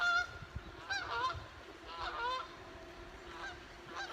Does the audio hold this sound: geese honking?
yes